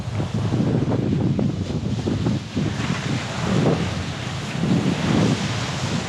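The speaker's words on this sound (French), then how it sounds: "Toujours pas mal de vent." Strong gusty wind buffets the microphone outdoors at El Chaltén in Patagonia, a loud continuous roar that swells and eases in waves with no other sounds.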